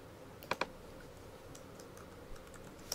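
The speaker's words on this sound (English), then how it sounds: "I'm going to go ahead and type in the date." A few quiet keystrokes on a computer keyboard: a quick double click, then scattered light taps over a soft background hiss. No talk.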